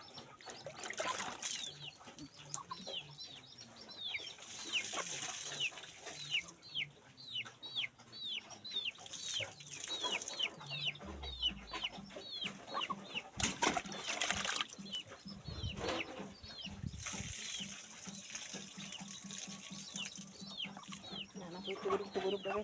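Chickens cluck and a rooster calls close by in a farmyard among garden plants, with irregular bursts of clucking, wing flapping and a trickle of water, while people talk intermittently in the background.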